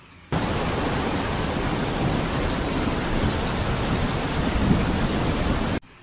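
Rain pouring with thunder as a sound effect, a dense, loud, steady hiss of falling rain with low rumbling that begins abruptly and cuts off just as suddenly.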